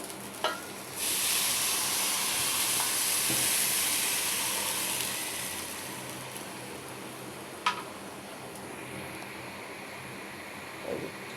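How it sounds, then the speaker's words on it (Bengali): Spices fry in oil in a pan as a loud sizzle that surges, then slowly settles into a steady hiss, with a few sharp clinks of stirring. "এই যে ভাজা ভাজা করে নিচ্ছি কষে"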